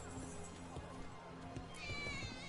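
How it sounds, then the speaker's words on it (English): A cat meows in the video game Dragon Age: The Veilguard, a brief high cry rising toward the end over a steady bed of game ambience and background sound. "Cat."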